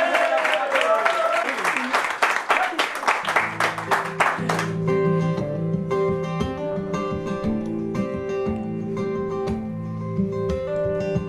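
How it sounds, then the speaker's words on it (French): Audience applause for a singer at a live radio broadcast in Nîmes: a dense burst of clapping that quickly fades as piano music begins and carries on alone. "Et je vous demanderai de l'applaudir, s'il vous plaît."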